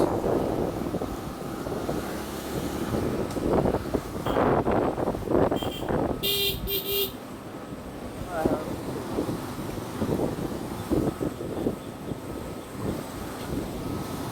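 Wind rushes over the microphone while riding a motorcycle on a rural road past a village primary school, a continuous blustery roar with gusts and brief higher engine or vehicle tones mid-ride.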